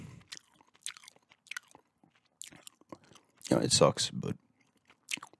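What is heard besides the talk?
gum chewing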